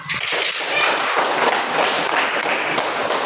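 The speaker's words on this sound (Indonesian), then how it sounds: "Tepuk tangan dulu untuk kita semua" A school class claps hands together in a dense, steady burst of sharp close claps, loud and sustained, with no talking over it.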